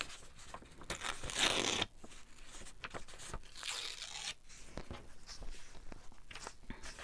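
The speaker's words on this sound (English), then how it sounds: "Tears nicely, this paper." Paper torn by hand for a collage, sharp ripping bursts and crinkling handling noises close by, with a strong tear near the start and lighter tears and rustles following.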